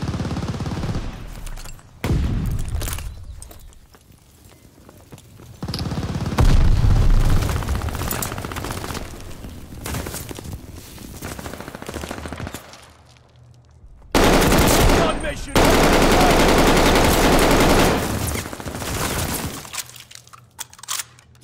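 Bursts of automatic gunfire and explosive booms from the Call of Duty Vanguard video game, loud and intermittent with sustained volleys separated by quieter gaps.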